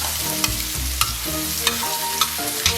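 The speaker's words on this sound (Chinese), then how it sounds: "炒差不多，然后咱们把葱花给它下进去。" Pork and scallions stir-fry in a hot wok, with a steady oily sizzle broken by sharp, regular scrapes of the spatula about every half second, close and loud with no voices.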